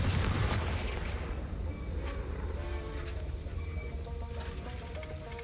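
A Confringo fire spell from Hogwarts Legacy bursts with a loud, low booming blast at the start, then a rumbling roar that lingers and slowly fades, with no talk.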